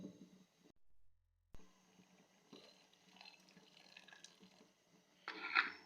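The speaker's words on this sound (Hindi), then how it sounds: "इसमें मैं थोड़ा सा पानी और ऐड करूँगी अभी" Water trickles and pours into a pot of cooking lentils (dal), a soft running liquid sound with a brief silent gap and a louder splash near the end.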